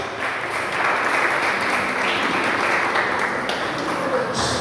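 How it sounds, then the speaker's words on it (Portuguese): A church congregation applauds at a worship service, with sustained, dense clapping from many hands that stays loud and even throughout. "Você pode aplaudir ao Senhor por isso?"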